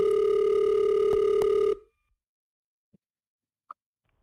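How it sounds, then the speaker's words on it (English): A steady, loud electronic telephone ring for an inbound call, cut off abruptly after almost two seconds, then near silence broken by two faint clicks. "Let's answer this inbound phone call, shall we?"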